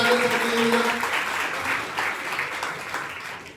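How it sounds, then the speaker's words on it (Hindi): An audience claps loudly in a sustained burst of applause at a gathering honoring students selected for the UP Police, fading slightly toward the end. "एक बार जोरदार ताली"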